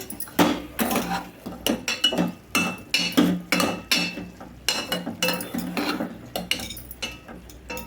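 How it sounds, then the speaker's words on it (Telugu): A spoon scrapes and clanks around a pan of garlic-tomato chutney in repeated rhythmic strokes, close and fairly loud, with no talking. "ఒకసారి కలుపు కలిపుదామండి ఒకసారి కలుపుకోవాలి"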